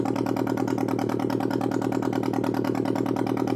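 A steady, buzzing engine-like drone from a circuit-bent Yamaha PSR-12 keyboard, with a low rumbling hum and a rapid pulsing texture, continuous and fairly loud, with no talking.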